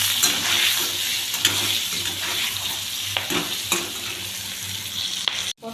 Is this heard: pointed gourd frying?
yes